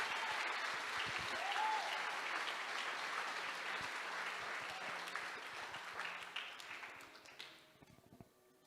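A church congregation applauds steadily and fairly loudly during a sermon, the dense clapping filling most of the clip before thinning into scattered claps near the end.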